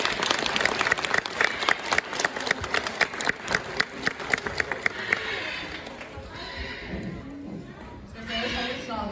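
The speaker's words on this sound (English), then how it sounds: "give him a clap as he heads off stage" Audience clapping at an outdoor bird show at Flamingo Land as a bird leaves the stage, rhythmic applause fading after about five seconds into crowd murmur and a presenter's voice.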